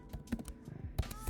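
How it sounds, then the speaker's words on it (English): Typing on a computer keyboard while entering a title in a word processor, a short burst of close, quiet key clicks in an uneven rhythm. "So I'm going to type title,"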